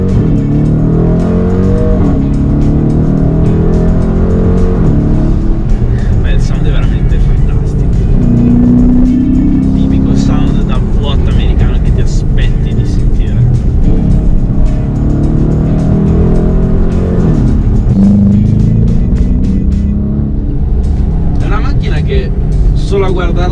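A 2017 Dodge Challenger muscle car's engine accelerating, a loud deep rumble that climbs and falls as the car pulls away and shifts, with someone talking over it close by.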